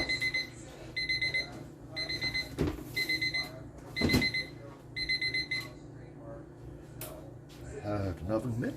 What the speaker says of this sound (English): And there's my timer for my meat